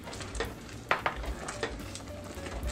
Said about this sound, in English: I'm stirring his sauce over here